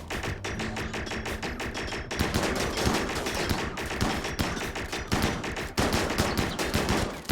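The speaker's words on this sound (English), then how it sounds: "They've got, like, shotguns, yeah." Shotgun fire in the video game Rimworld rings out in rapid, dense volleys, loud and near, with overlapping blasts and brief pauses between bursts.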